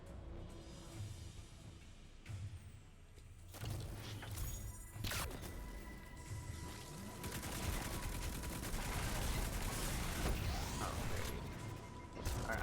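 Gunfire in Destiny 2 during the Perdition master Lost Sector, with dense bursts of shots, mechanical clatter and crashing effects building to a loud, continuous barrage.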